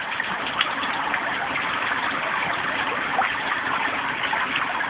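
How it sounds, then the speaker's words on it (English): Steady water pours and splashes into small buckets under a simple backyard lettuce-growing setup, a continuous close gushing rush with no talk over it. "The buckets are catching water."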